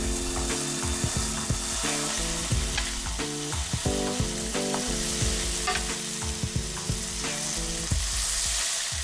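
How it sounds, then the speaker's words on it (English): Salmon fillets sizzle in a pan on medium heat, a bright continuous hiss mixed with scattered clicks and clattering tones that run throughout. "we'll get our salmon fillets right in there"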